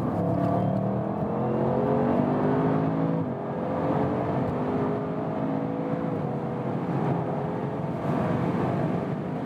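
An Audi RS7 Sportback with a 600 hp engine accelerating hard on the German Autobahn, its steady engine drone rising through the gears heard from inside the cabin, with a brief dip around a shift and no talk.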